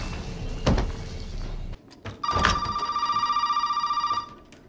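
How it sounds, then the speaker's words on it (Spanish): In Resident Evil 7, a dull thud is followed by a telephone ringing with a steady, rapidly pulsing electronic tone for about two seconds, fairly close and with no voices. "Sabía que tenía que sonar el teléfono."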